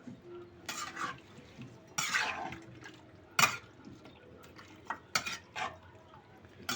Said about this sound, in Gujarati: અને હવે આપણે એને હલાવી નાખશું.